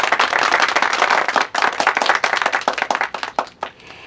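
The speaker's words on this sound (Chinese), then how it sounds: "大家鼓掌。" A classroom of students bursts into loud, dense applause that holds steady, then thins into scattered, separate claps before fading out.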